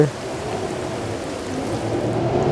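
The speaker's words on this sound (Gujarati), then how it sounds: "તમે જોઈ શકો છો વરસાદ કેવો વરસી રહ્યો છે" First monsoon rain of the season falls in a constant broad wash of noise, steady and moderately loud throughout, with a faint low murmur underneath.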